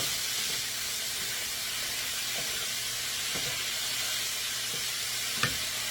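Stew meat with its juice simmers in a pan, giving a soft continuous sizzle and hiss at low level, steady throughout with one faint clink near the end and no voices.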